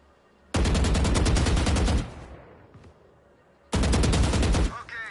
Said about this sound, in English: Now shoot the bots.